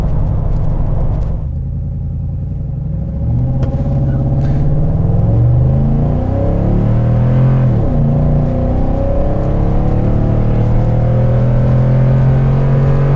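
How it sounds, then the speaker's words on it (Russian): A Toyota Tundra 1794 pickup accelerates hard to 100 km/h on a highway. Inside the cab, the engine rumbles and rises through the gears with steady road noise, loud and close. "померяем разгон до соточки"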